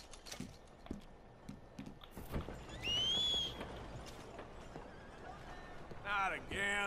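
Horse hooves clip-clop irregularly in Red Dead Redemption 2 on the streets of Saint-Denis, mixed with street ambience, a whistle-like tone and a horse whinny, while someone talks over them.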